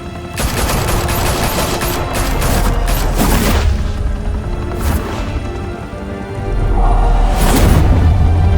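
Heavy automatic gunfire rattles through a shootout in the Batman Telltale video game, a loud sustained fusillade with booming bursts that swell again toward the end, and no voices.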